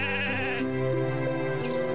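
A sheep on a farm in the video game Hero of the Kingdom lets out a long wavering bleat, close and loud, followed by a second lower bleat, with no talking.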